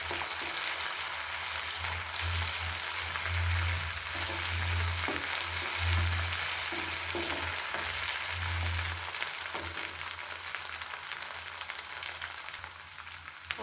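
Onion pieces and ginger garlic paste frying in a pan, a soft steady sizzle with occasional stirring scrapes and low thumps, fairly quiet and close, no talking.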